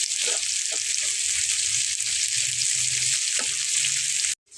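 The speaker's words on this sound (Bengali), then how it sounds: "পেঁয়াজ আর রসুনটা কিন্তু ভাজা হয়ে গেছে" Onion and garlic frying in oil in a pan, a loud continuous close sizzle with faint stirring taps, cutting off abruptly at the end.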